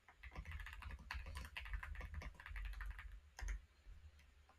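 Typing on a computer keyboard, a steady flurry of light, fast key clicks with a short pause near the end, heard alone at close range over a low hum.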